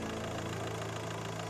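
A 2.0 TDI diesel car engine idles with a loud, steady, even rumble and a faint knocking pulse throughout, heard close with no talking.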